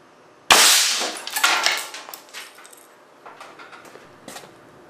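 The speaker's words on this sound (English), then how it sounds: "Here goes a shot with the lead slug." An air cannon fires a lead slug at a small radio, making a single sharp, loud bang followed by a clattering burst of plastic and metal debris that rattles and dies away over a few seconds.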